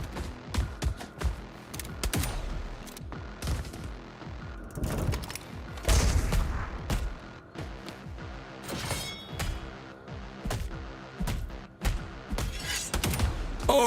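Dense video game gunfire mixed with booms, shattering and crashing effects, rapid bursts and volleys packed together at a loud, close level with no pause.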